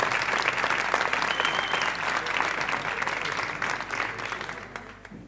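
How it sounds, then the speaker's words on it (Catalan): Applause from the audience at a big band concert, a thick wash of clapping that holds steady and then thins and fades toward the end. "Molts aplaudiments"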